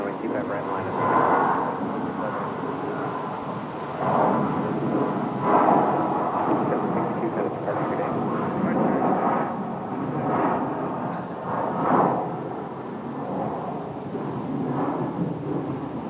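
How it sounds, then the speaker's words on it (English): An airliner taking off from Phoenix airport, a broad distant engine roar that swells and rumbles steadily with a gusty, wind-like texture, heard from outdoors at a distance. "And there goes 1325 headed off to Houston."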